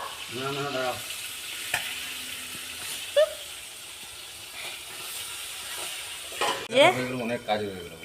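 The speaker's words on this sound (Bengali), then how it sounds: "আর এই যে মাছ ভাজা হচ্ছে" Fish frying in oil over an outdoor clay stove, a steady broadband sizzle running throughout with occasional sharper crackles, while people talk nearby over it.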